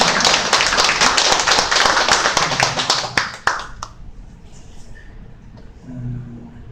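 A church congregation claps together in dense, steady applause for about four seconds before it fades out, leaving faint room noise and a brief murmur of voices.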